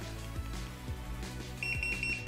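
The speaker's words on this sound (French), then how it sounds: "3 bips pour le troisième mode." A Boosted Mini S electric skateboard gives three quick high-pitched beeps in a row while changing to its third speed mode, heard over a continuous low hum.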